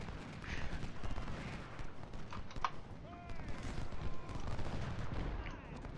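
Musket volleys pop and crackle in scattered, overlapping bursts across a Civil War battlefield in the strategy game Ultimate General: Civil War, moderately loud amid general battle noise.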